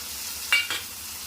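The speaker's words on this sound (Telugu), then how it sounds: "ఇప్పుడు ఇందులో మనం టమాటాలు వేసుకోవాలి" Tomatoes drop into onions frying in a pan for a drumstick and tomato curry. A steady close sizzle swells with two brief bursts as they land.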